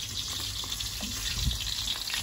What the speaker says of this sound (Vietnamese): Món cá chiên này chỉ còn 4 con nữa là xong.